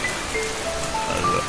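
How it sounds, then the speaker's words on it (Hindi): Heavy rain pours steadily outside an old haveli, a dense unbroken hiss of falling water, loud and close, with no voices. "बातों के बीच ही आसमान फट पड़ा और झमाझम बारिश होने लगी।"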